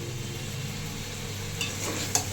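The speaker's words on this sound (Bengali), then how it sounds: "চিকেনটাকে এমনভাবেই কষাতে হবে যাতে এরকম তলা লাগা লাগা মতো থাকে" Chicken with spices sautéing in a pan, a loud close sizzle with constant scraping stir strokes, the mixture catching slightly on the bottom, a couple of sharper clinks near the end.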